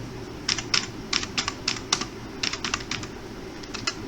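Computer keyboard typing, close and crisp, with quick bursts of key clicks separated by short pauses, steady background hum underneath and no talking.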